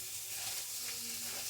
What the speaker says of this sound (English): that is a nice and loud sizzle